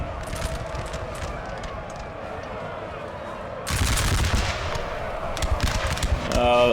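Massed musket volleys in a Napoleon: Total War battle, crackling rolls of gunfire that grow denser and louder midway, with scattered sharp reports and faint chatter underneath.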